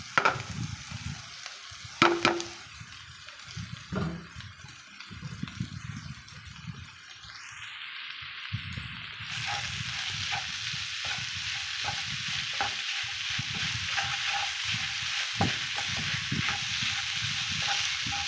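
Shark puttu, shredded shark meat added to sautéed onions, is stirred in a pan. A steady sizzle runs under repeated scraping strokes of a spoon against the metal, and a few louder clanks sound near the start.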